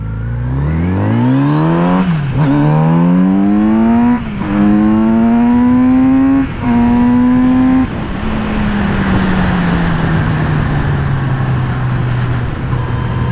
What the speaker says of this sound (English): For a stock bike, the sound of this bike is incredible.